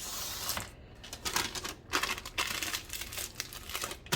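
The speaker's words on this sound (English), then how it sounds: "I'm going to put a piece of wax paper over the lid and a piece of parchment" Wax paper and parchment crinkling as they are pressed over a metal jar lid for a citrus vinegar cleaner: close, dry crackling and rustling in irregular bursts, fairly quiet, with no talking.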